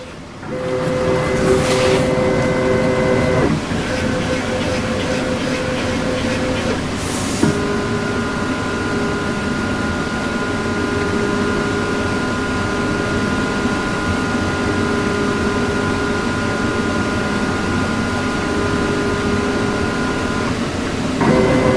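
A CNC machine hums steadily with sustained motor whines that shift pitch as the axes move toward the corner during auto zero probing, loud and continuous with brief clicks at changes.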